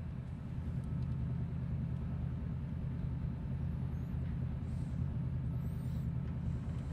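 A nomad car engine in Cyberpunk 2077 rumbles low and steady at close range, with faint high chirps briefly overhead.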